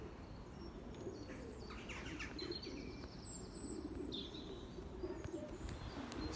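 Belgian racing pigeons at the loft after returning from a flight: faint cooing and a few bright chirps over a steady low background hum, with no voices.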